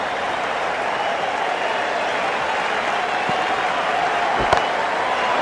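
A large IPL cricket stadium crowd keeps up a broad, steady roar of cheering and applause at full volume, with a single sharp knock partway through.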